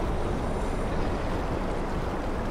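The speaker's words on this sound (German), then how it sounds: "Ich glaube schon, dass es so eine Art Strömungssound sein soll oder so" A steady underwater current ambience from the horror video game Soma rushes and roars as dense, even noise with no breaks and no voices.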